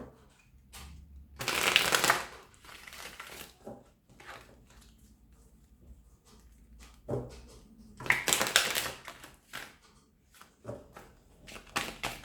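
Tarot cards being cut and shuffled in several crisp riffling bursts, with softer flicks and card slaps between them, close and clear with no talking.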